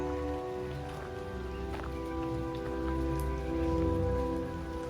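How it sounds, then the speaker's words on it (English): Gentle, continuous patter of light rain drizzling over a steady low background hum, with no voices. "It's just been drizzling all day"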